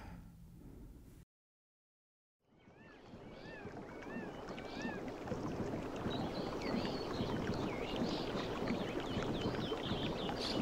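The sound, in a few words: evening rowboat ride on water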